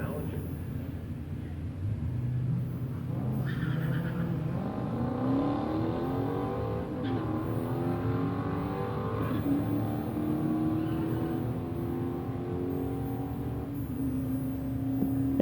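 Drag racing cars, an 89 Mustang and a Challenger, rev and accelerate at a track, with rising engine whines sweeping up in pitch under continuous announcer commentary, moderately distant.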